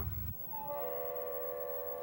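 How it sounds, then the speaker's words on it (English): A freight train's horn sounds as the train approaches a van left on the tracks, a sustained chord that starts after a short rumble and holds steady, moderately loud with no voices. "A horn in the distance heralds the approaching impact."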